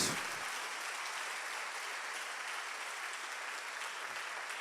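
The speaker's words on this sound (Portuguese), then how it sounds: "dê uma salva de palmas a Jesus." A church congregation gives a sustained round of applause for Jesus during a sermon, steady dense clapping from many hands throughout, heard from a distance without speech over it.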